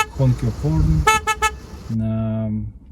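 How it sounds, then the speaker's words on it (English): Car horn sounding during a G2 road test in Burlington, a few short toots after a stretch of talk, then a steady sustained honk, close and loud. "Honk your horn."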